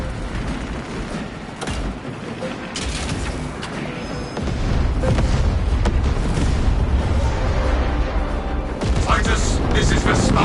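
A loud, rumbling detonation in the video game Space Marine 2, with booming blasts and gunfire-like crackle swelling into a sustained roar of explosions mixed with in-game battle noise.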